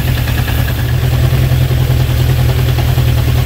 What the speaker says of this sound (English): Engine RPM is a little bit high, but it's a bit lumpy at the moment